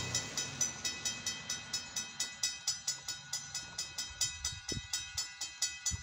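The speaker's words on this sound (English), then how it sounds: "Yeah, we got a CFE train coming." A CFE freight train rolls along in the rain with a regular rhythmic clatter of wheels over rail joints, loud and steady, with a low rumble beneath.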